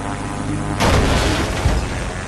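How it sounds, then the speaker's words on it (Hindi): An airplane flying in the mobile game Indian Bike Driving 3D: a sudden loud, broadband engine roar bursts in under a second in and holds steady and heavy to the end, over a quieter hum beforehand. "प्लेन अभी भी उड़ रहा है भाई"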